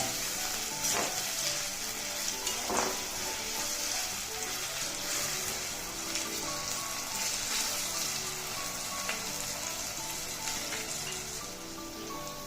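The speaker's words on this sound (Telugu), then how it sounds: "పది లవంగాలు ఒక దాల్చిన చెక్క వీటన్నిటిని కలిపి దోరగా వేగనిద్దాం" Cloves, a cinnamon stick and bay leaf frying in hot oil in a pan for mushroom biryani, a steady, dense sizzle with light crackling throughout, close and continuous with no talking.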